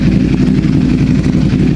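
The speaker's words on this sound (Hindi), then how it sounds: "ये 5 लाख रुपए के एग्जॉस्ट की साउंड है।" A Ducati superbike engine runs steadily through an aftermarket exhaust, giving a loud, close, continuous rumble that fills the whole moment with no talking.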